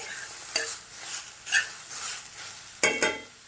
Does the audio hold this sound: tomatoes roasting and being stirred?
yes